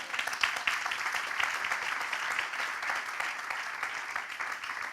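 A church congregation claps together in a steady, moderately distant wash of applause that continues throughout without any break.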